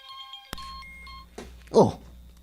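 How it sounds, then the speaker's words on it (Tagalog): A phone text message notification chimes as a short, clear electronic tone close by in a quiet room, followed by a brief sharper sound. "Oh, kinsa man ang may text?"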